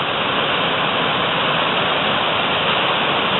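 A mountain stream in the Bauges near Saint-Marcel-d'en-Haut rushes loudly and continuously, a dense, steady wash of flowing water with no pauses.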